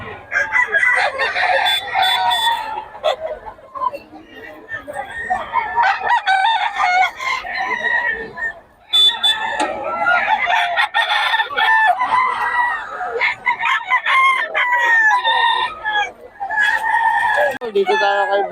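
Several roosters crow repeatedly amid a busy, noisy background of clucking fowl at a chicken market in Bocaue, with people talking nearby.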